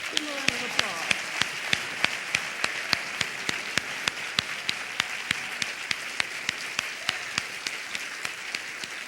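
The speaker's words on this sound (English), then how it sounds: "Give them a round of applause." Applause from a church congregation, rapid, fairly uniform claps blending into a steady patter at moderate distance, sustained evenly for several seconds without a break.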